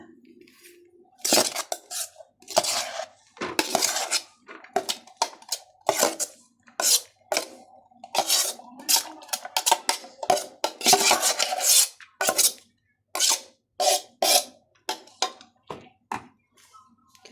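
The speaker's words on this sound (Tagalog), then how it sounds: "Slowly we do the grinder." Chilies being ground in a grinder for chili sauce: a close series of short, harsh rasping bursts in an uneven rhythm, with brief pauses between strokes and no talking.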